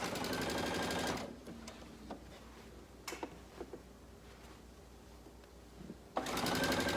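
A sewing machine stitches a garment neckline, whirring rapidly and loud for about a second, pausing with faint handling clicks, then starting up again near the end.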